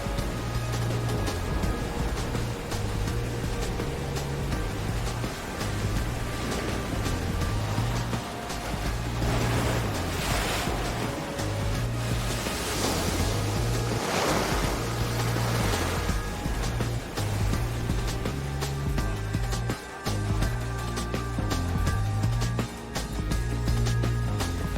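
A tidal bore surging up a river as a single incoming tide, a dense continuous roar of rushing water with swelling bursts of surf noise, steady and loud throughout.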